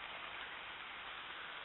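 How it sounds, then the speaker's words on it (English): Light rain beginning to fall on an old rock quarry trail, a steady, even hiss of drops spread across the whole moment with no voices. "It's starting to rain a little bit, so I might want to put away the camera,"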